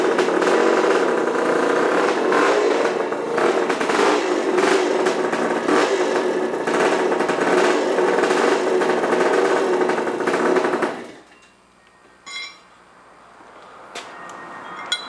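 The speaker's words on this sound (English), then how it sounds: "Bike started." A motorcycle engine, just started on a Perry roller starter, runs loud and close with a rough, pulsing idle for about eleven seconds, then cuts out, leaving a few faint clicks and knocks.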